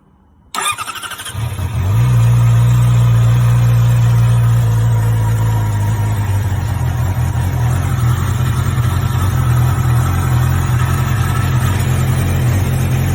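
A Yamaha R6 sport motorcycle engine cranks and catches after a brief click, then settles into a loud, steady close-up idle with a deep hum, running on fresh oil.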